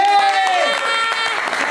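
Brief applause from an audience at a live singing session, a short burst of clapping that begins loud and stays dense, with a sung or spoken voice tailing off over it.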